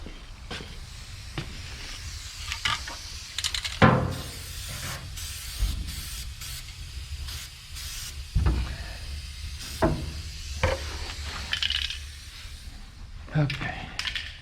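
An aerosol spray can coats a wheel tub bracket for a 1967 Chevelle, giving repeated short hissing bursts close by, mixed with shop clatter and some talk.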